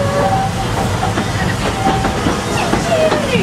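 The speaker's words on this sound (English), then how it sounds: "welcome aboard the Walt Disney World Railroad" Steady rumble and hiss of the Walt Disney World Railroad train at Magic Kingdom with faint rhythmic clacking, heard from inside a passenger car.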